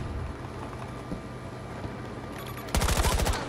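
Gunfire from the PBX weapon in the video game Battlefield 2042 comes as a sudden loud burst of rapid shots near the end, after quieter in-game background noise.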